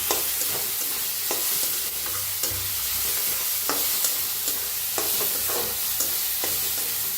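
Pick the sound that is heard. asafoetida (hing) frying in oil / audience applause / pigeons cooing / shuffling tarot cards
asafoetida (hing) frying in oil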